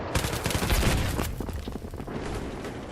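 Rapid bursts of gunfire from a weapon in Battlefield 3, dense overlapping shots loud and close at first, then thinning into scattered cracks and distant booms.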